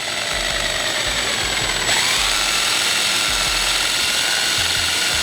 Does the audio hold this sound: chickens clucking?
no